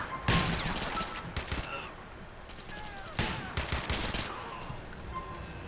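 Bursts of gunfire rattle through a GTA IV LCPDFR SWAT-versus-zombies fight, with several rapid volleys of shots and quieter gaps between them under game ambience.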